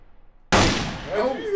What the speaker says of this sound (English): Scared by your own gunshot?